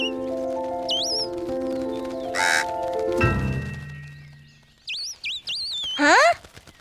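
In a kids' cartoon, a bird gives bright, swooping chirps: a pair of rising-falling calls, then a quick run of several tweets ending in one long sliding cry, mixed with musical tones and cartoon sound effects.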